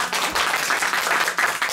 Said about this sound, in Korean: 이러면 힘내라고 박수 주시던데